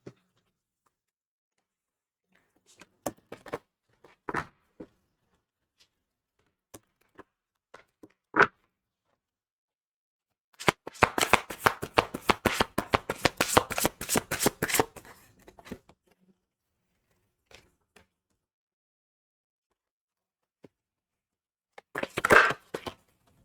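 Oracle cards are shuffled close up in a quick, crisp riffling burst lasting a few seconds, with scattered soft taps and card handling before and after.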